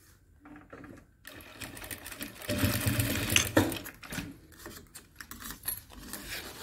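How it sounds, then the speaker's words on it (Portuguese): A sewing machine stitches side binding on a fabric pen case in several bursts of rapid mechanical whirring, separated by quiet pauses and light handling noises of fabric, nearby. "a gente vai costurar aqui pra fazer um acabamento lateral"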